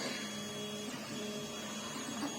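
Laser engraver running on its own, a faint steady mechanical whir with thin tonal hum throughout, continuous and without talking.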